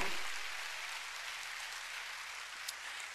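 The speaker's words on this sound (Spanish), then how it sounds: "¿Cuánto le dan un aplauso a Dios por eso" A church congregation applauds during a sermon, a faint, steady wash of distant clapping that holds evenly for a few seconds.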